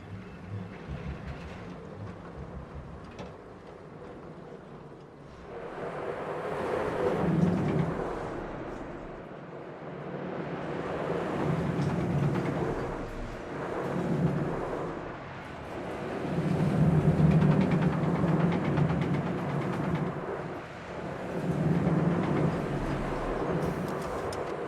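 A smaller Planet Coaster roller coaster running an Intamin-style train on a short launch layout, its loud rumbling roar surging and fading in several waves with rushing wind-like noise and no talk.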